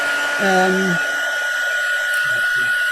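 A hair dryer blows steadily, drying ink on a mixed media board, a constant whooshing hum with a high whine, while a voice briefly sounds over it.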